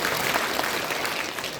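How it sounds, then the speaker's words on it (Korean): An audience claps steadily at an inauguration ceremony, a brief burst of dense, even applause. "박수 한번 쳐주시면 감사하겠습니다"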